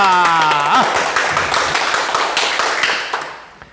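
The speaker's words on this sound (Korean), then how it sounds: "큰 박수 부탁드립니다." Audience clapping at a talk-style lecture, a quick patter of hand claps rising after a brief spoken phrase and then tapering off toward the end.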